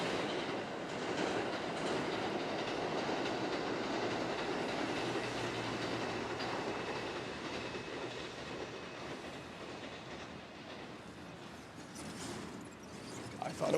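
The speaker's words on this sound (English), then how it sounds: "Let's admire the train." A train runs past on a railway beside a pedestrian bridge in Osaka, a steady rumble with clattering wheels and faint squeal, heard from nearby and fading slightly toward the end.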